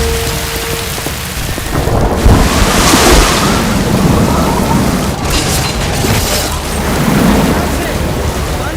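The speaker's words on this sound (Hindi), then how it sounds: "पानी का बहाव बहुत तेज है" Roaring rush of the rising Sirsa river's fast current, a loud, continuous wash of churning water with deep rumbling swells, no voices over it.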